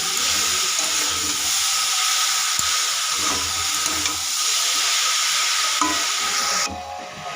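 Chalta (elephant apple) pieces stirred with sugar in a pan give a steady, continuous hiss and soft sizzle with faint scraping, close and even throughout.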